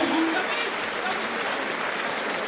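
Crowd applause fills an arena at a David Haye versus Jean Marc Mormeck boxing match, a broad, steady roar of clapping with a voice briefly heard under it.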